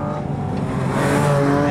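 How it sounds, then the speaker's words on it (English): A 2023 Porsche Cayman GT4 RS with its naturally aspirated engine revs loudly and steadily, its tone climbing toward the high end over under two seconds with no talk. "This naturally aspirated engine is something else."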